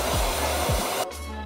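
A hair dryer blows steadily on freshly dyed purple hair, a loud close whooshing roar that dips in pitch and tone near the end as the airflow shifts.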